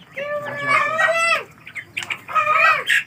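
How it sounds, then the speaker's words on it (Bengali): Several drawn-out, harmonic hen calls, clucking and squawking in bursts with a short gap between, close by and fairly loud. "ওই পাশে কয়েকটা আছে মুরগি রয়েছে"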